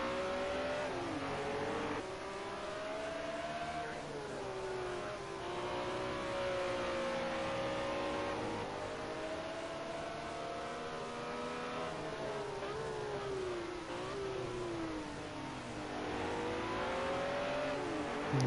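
BMW M1 Procar race cars lapping the Road America carousel in a racing video game, with several engines droning together at high revs, their pitch rising and falling as they shift and corner. The sound is loud and continuous throughout.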